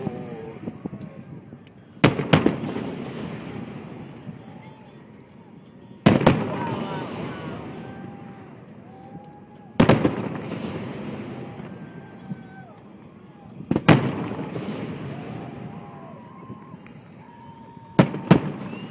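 Fourth of July fireworks over Tichigan Lake burst in four or five loud, sharp booms spaced a few seconds apart, each echoing and fading, with whistling rockets and a crowd of spectators chatting and reacting between blasts.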